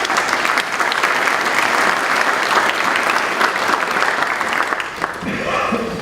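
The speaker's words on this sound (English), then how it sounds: "If we could give them a brief round of applause." A brief round of applause from an audience at a Delaware County public safety presentation, dense steady clapping throughout, with a voice faintly emerging near the end.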